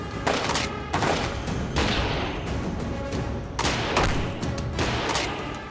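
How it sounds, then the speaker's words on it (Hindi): Dense, continuous gunfire from unseen shooters in a tense shootout, with rapid bursts and heavy booms overlapping throughout, loud and chaotic. "शूटर्स दिखाई नहीं दे रहे हैं, बस गोलियां चलाए जा रहे हैं"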